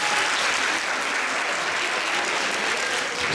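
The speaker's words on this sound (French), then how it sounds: "Je peux les applaudir, merci." An audience applauds performers at an after-show stage meeting, with dense, steady clapping that fills the whole moment at an even, fairly loud level and no voices over it.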